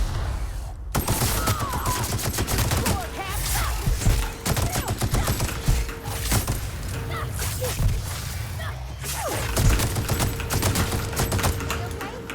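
Assault rifle gunfire in The Outer Worlds, a near-continuous rapid automatic rattle of loud shots in long bursts with brief pauses, busy combat effects layered throughout.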